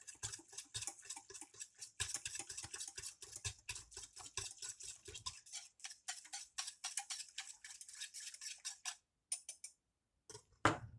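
Rapid whisking of a custard mixture in a bowl for crema catalana, a steady run of fine ticking clicks from whisk against bowl that pauses briefly near the end, with no talk over it.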